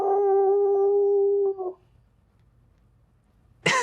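A person imitates a howl with a sustained voiced wail lasting about a second and a half that breaks off into near silence, followed by a brief burst of noise at the end.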